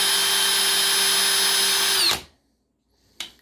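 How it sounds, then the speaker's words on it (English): A cordless power drill with a Jacobs chuck, running up to 2,000 RPM, whines steadily and loudly for about two seconds, then winds down and stops, followed by a short clunk after a pause. "The drill is the biggest investment"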